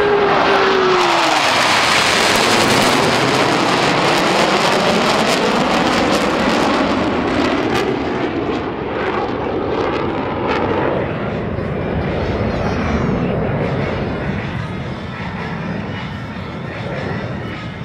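US Navy Blue Angels jets performing brake turns at an air show, a loud roaring engine pass with a falling whine that recedes into a sustained rumble.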